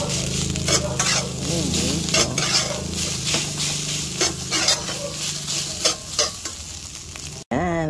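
Fried rice with chorizo, luncheon meat, egg and carrots sizzles steadily in a pan while a utensil scrapes and stirs in repeated strokes. The sizzle cuts off abruptly near the end.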